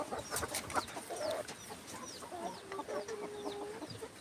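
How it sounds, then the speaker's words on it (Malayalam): A chicken clucking in a cage while eating leftover rice, soft repeated clucks and short calls close by over a low background hum, with other birds faintly chirping. "ദാ കോഴി വന്നതാ"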